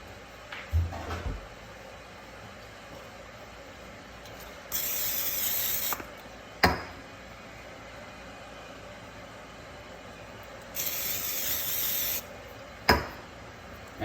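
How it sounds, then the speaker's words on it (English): Two bursts of cooking spray, each lasting about a second, hiss from a can onto a peanut butter and jelly sandwich before air frying. Each burst is followed by a sharp click, and a steady background hum runs underneath. "Cookie spray."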